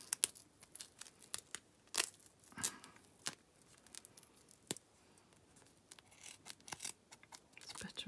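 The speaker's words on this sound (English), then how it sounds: "So I use the ends for scissors, but of course my scissors stick to the tape" Scissors snip and rasp through strong mesh tape in quiet, close, irregular bursts of short crisp cuts, faint overall with brief pauses between strokes.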